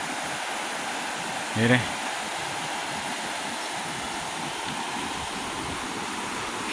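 The Cuaca river rushes in a wild, constant roar of water, heard steadily throughout with a brief exclamation from a voice.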